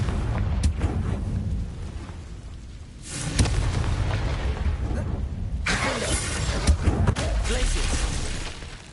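Confringo explosion spell cast in the video game Hogwarts Legacy, heard as two loud crashing blasts with shattering debris over constant battle noise.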